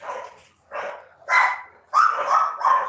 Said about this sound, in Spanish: Los perros se vuelven locos a esta hora